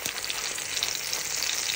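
Steady, bright sizzling of eggplant frying in oil in a pan for Filipino tortang talong, a continuous close-up hiss with no talking over it.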